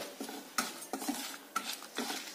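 Cauliflower curry masala ingredients being sautéed in a pan over medium flame, with a soft sizzle under four or five distinct metal spoon scrapes and clanks against the pan, near and moderately loud.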